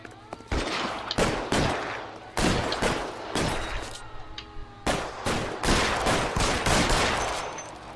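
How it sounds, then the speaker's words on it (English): Gunfire in the video game L.A. Noire: bursts of loud, close shots fired in quick clusters with short gaps between, some rapid like a fusillade, over a low background hum. "I'm shooting at the wall."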